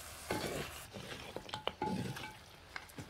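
Mutton being stirred in a pan with browned spices and oil, a spoon scraping and clinking in a few close strokes over a faint sizzle.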